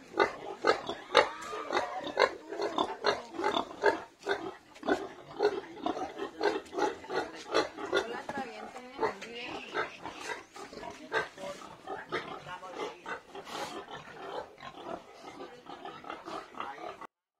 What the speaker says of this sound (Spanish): A continuación veremos las razas más comunes de cerdos.